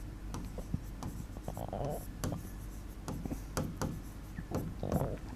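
Writing on a board during a lesson, with repeated scratchy strokes and taps in short bursts, close and clear under a teacher's ongoing speech.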